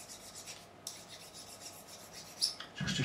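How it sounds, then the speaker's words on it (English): Sandpaper rubbed and rolled along the edge of a part on a 1972 Gibson Les Paul Deluxe during a neck fix and refret, soft repeated rasping strokes, quiet and close, with a few light knocks. "I'll get some sandpaper on this and just rolling it round."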